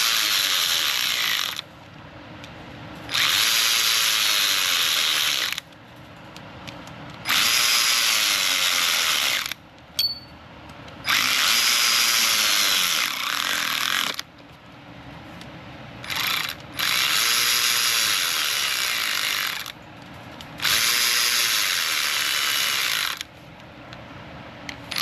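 Ratchet tightening cylinder head bolts on a Jeep engine, loud close clicking runs in repeated bursts of a few seconds separated by short pauses.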